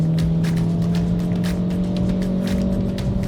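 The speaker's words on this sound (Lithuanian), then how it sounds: "Ir permetimas ilgas, ir vėl mašina traukia." A 2026 Renault Clio accelerates with a steady engine drone heard from inside the cabin, with repeated gear-shift pulses and rising engine note throughout, and no voices.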